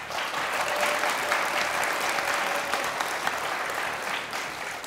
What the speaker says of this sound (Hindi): जिनको लगता है सुनील भाई जीते वो तालियां बजाएं।